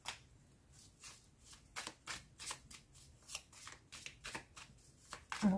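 A deck of playing cards is shuffled close and quiet, a run of crisp riffling bursts and soft slaps repeating in quick succession with no voices.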